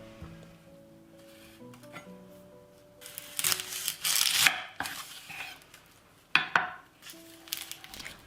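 Three red onions and one white onion being chopped with a knife, first a few quiet cuts, then bursts of rapid, loud chopping against a board, close and with no talk.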